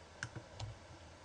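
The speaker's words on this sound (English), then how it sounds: "Hold a finger down on the Alt key, and now click with the mouse," A computer mouse gives a few faint, sharp left-clicks in a quiet room, spaced irregularly over about a second.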